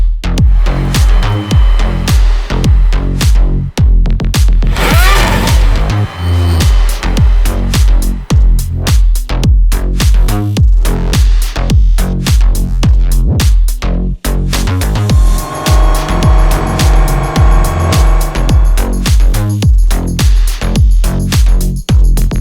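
An Aston Martin Valkyrie supercar fitted with a Novitec exhaust revs hard and loud, its engine roaring in rapid rising and falling bursts with sharp pops, steady and close throughout with no talk.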